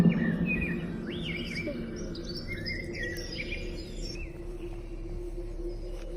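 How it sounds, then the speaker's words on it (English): Looped recordings of birdsong and nature ambience play from concealed outdoor speakers, several bird chirps and whistles repeating over a steady hum of background noise at moderate level. "We started to realize all the bird and nature sounds were on repeat."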